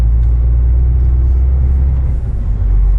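A car pulls away on a wintry road, heard from inside as a loud, steady, low engine and road rumble that continues unbroken throughout.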